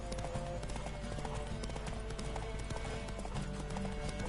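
Steady clip-clop of horse hooves galloping in The Witcher 3, a continuous rhythmic drumming close up and fairly loud, with faint game music and ambience underneath.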